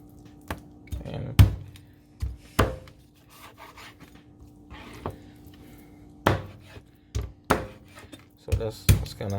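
A cleaver chops a whole chicken into pieces, including the breast, with sharp irregular thuds and knocks spaced a second or two apart on a cutting surface, close up, with quiet scraping between blows.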